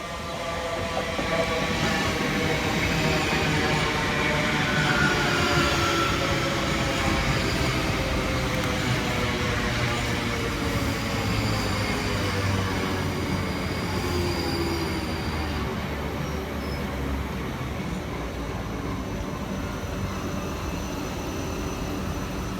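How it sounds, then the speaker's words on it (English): South Western Railway Class 458 electric units 458 415 and 458 405, coupled together on a Reading to London Waterloo service, roll into a station with a loud, steady rumble of wheels on rail and brief squeals, lasting throughout with no talk. "Arriving next into the station is 458 415 and 458 405, working the 12:19 South Western Railway service Reading through to London Waterloo."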